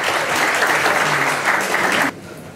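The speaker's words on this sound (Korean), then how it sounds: "박수로 환영해 주시면 고맙겠습니다" An audience at a press awards ceremony in a National Assembly meeting room gives steady, dense applause to welcome a former prime minister, holding strong for two seconds before cutting off abruptly.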